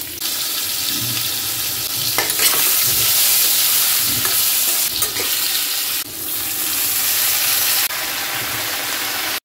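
Bay leaf, panch phoron, dried and green chillies sizzling hard in hot oil in a pan where pumpkin was just fried, a loud, steady crackling hiss lasting throughout, close up with no voices.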